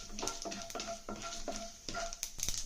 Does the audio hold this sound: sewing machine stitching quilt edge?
no